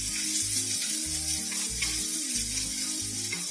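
Chopped onions sizzle in a hot pan for a simple atta breakfast, a constant close frying hiss under steady background music, with no talking.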